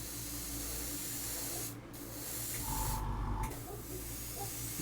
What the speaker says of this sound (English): I wouldn't recommend spraying this stuff without an extractor